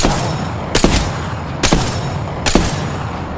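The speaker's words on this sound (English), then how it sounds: "Listen up, I'm getting shot at." Gunfire in a shooter video game: three loud, sharp bangs spaced evenly about a second apart over a steady background rumble, with no talking.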